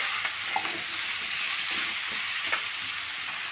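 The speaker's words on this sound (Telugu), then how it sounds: "మునక్కాయలు కూడా మగ్గిపోతాయి మంచిగా ఆనియన్స్తో పాటు ఆయిల్లో." Drumsticks and onions fry in hot oil, giving a steady close sizzle with faint crackles and stirring scrapes throughout, no voices.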